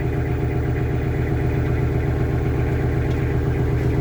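Kubota GL46 tractor with a five-cylinder engine idling smoothly, a steady close low rumble with even pulsing throughout and no talking.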